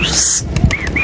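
Domestic Zoyna-breed pigeons take off in a brief burst of wing flaps and chirps, close and fairly loud over quiet background.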